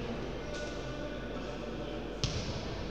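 A single sharp, close thump of a foot striking the ball hard during a footvolley (tenis de picior) match, heard once over steady crowd and hall noise, with a commentator talking throughout.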